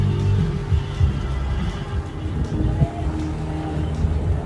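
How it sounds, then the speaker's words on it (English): Low, steady motor drone runs throughout, a sailing boat's engine humming in the background as it motors across a flat, windless sea, with faint water and wind noise, no talking. "you can hear the motors going in the background."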